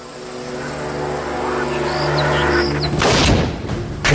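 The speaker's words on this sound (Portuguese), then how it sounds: "O tiro fez um dano enorme" A loud, close 12-gauge shotgun blast erupts partway through, cutting across a steady droning engine-like hum, followed by a second burst near the end.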